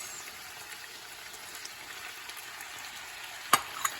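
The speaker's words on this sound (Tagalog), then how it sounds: "Ilalagay ko na rin ang patatas." Potatoes drop into a pan of sautéed vegetables for Filipino igado, giving a steady, fairly quiet frying sizzle with a couple of sharp clinks of a utensil near the end.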